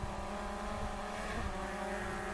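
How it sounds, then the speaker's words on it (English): A camera drone flies outdoors at a state park, its steady motor whine holding constant and loud throughout with no break in level, and no voices over it. "Got the drone out here"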